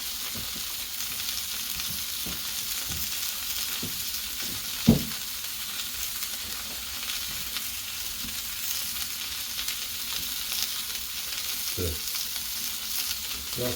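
Burgers sizzle steadily on a Blackstone flat-top griddle, a continuous broadband frying hiss with a sharp clack of a spatula or tool near the middle and a few soft scrapes, no talking.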